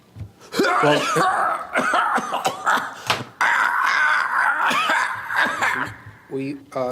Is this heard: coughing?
yes